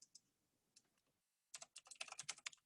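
Rapid computer keyboard typing, close and crisp, breaks out after a faint scattered tap or two and a short silence, continuing in dense uneven bursts during an online lecture on enterprise network architecture.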